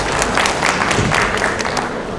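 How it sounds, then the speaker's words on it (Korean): Audience applause at a Korean conference presentation on AI agents for construction site management, a dense steady roar of many hands clapping throughout, fairly loud and continuous with no talk over it. "박수 부탁드립니다."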